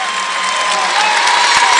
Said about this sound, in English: Both teams and their fans, they're standing and cheering.